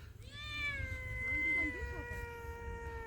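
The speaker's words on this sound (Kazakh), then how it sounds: "Жабай мысық жатыр." A wild cat gives a single long, drawn-out meow outdoors, loud and close, with a low background rumble and faint voices behind it.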